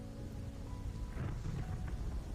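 Steady rain and a low, distant rumble of thunder fill a stormy scene in the Wuthering Waves video game. The sound forms a continuous wash of noise with no voices.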